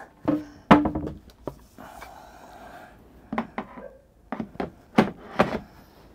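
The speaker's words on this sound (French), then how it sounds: "je vais fermer la porte" A camper van door on a Benimar Tessoro 463 motorhome is handled and shut, giving several close wooden knocks and thunks spread across the stretch, with quieter rattling and shuffling in between.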